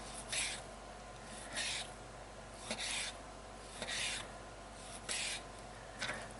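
Knife cuts slicing small pork chops into thin slices, about six short rasping strokes spaced roughly a second apart, close and quiet.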